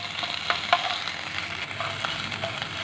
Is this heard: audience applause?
no